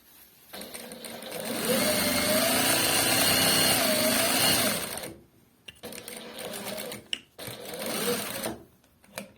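A JUKI 8300N industrial sewing machine with a servo motor stitches in a steady, loud whirring run of several seconds, then stops and restarts in shorter bursts, with brief pauses between.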